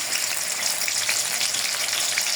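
Onion paste sizzling in hot oil, a loud, dense, continuous frying hiss with no pauses.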